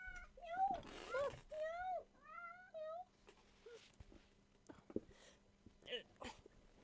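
A pet cat meows close by, several drawn-out, rising-and-falling calls in quick succession, followed by quieter shuffling and small household noises.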